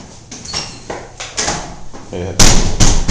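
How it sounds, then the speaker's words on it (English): A heavy door swings shut with a solid thud, followed by a loud slam near the end, amid tapping and handling noises and people talking. "This door has a lot of weight."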